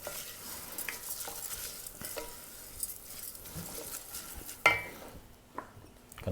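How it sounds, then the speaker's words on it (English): Risotto rice grains are stirred with a wooden spoon in a hot pan, a continuous gentle scraping over a soft sizzle, punctuated by a few sharper knocks against the pan, with no talking. "Gentle stirring, wooden spoon."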